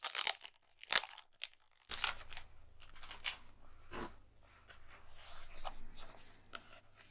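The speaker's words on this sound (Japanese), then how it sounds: "早速開封していきたいと思います" Packaging on a new MD notebook with dot-grid pages is opened close up, with crisp crackling and rustling, sharp tearing bursts at the start, then softer handling and paper shuffling.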